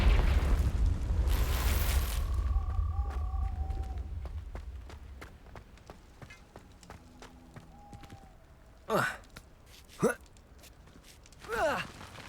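A Confringo fire spell in Hogwarts Legacy, played on Xbox, erupts in a short, bright burst over a deep rumble that fades out. Lighter game clicks and a few brief vocal sounds follow.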